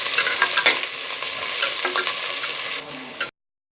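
Sliced onions sauté and stir in a pan with a little salt while cooking for mutton biryani in a pressure cooker, giving a steady loud sizzle with scraping stirs throughout, then stopping abruptly.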